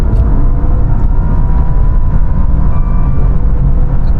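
A Maserati Ghibli Trofeo launches hard from a standstill, its engine a loud, close, sustained roar that stays dense and forceful for the full stretch with no voices over it.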